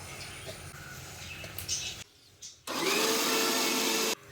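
A mixer grinder grinding jackfruit whirs in short bursts, stops briefly, then roars loudly and steadily for over a second before cutting off abruptly.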